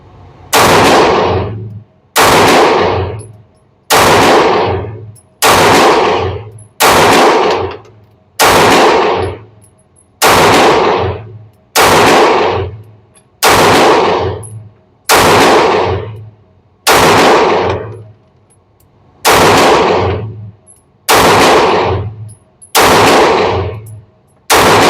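A Taurus G3C pistol fires a full magazine at targets on a range, about a dozen loud, sharp reports spaced roughly two seconds apart, each with a ringing tail, and no talk.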